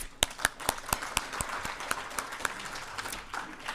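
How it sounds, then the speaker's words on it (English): Guests at a business leadership luncheon applaud a corporate sponsor, a modest room of clapping with a few sharp individual claps standing out, fairly quiet and steady. "Another round of applause, please."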